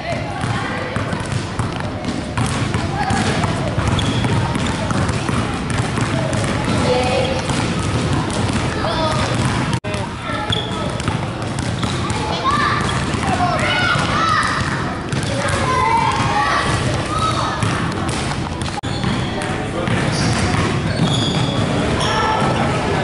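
Basketballs thumping on a gym floor during youth layup drills, repeated bounces scattered throughout among coaching shouts, children's voices and echoing background noise.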